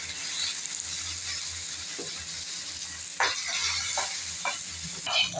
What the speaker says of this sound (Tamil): கடுகு உளுத்தம்பருப்புலாம் நல்லா பொரிஞ்சிச்சுங்க.